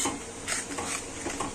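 Cucumber dish being stirred in a pot over a low flame: a few quick spoon scrapes and clinks against the pot over a soft background sizzle, close and brief.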